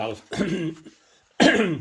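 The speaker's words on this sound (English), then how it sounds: "sorry for coughing" A short, rough cough bursts out at close range, then a brief pause before another throaty cough.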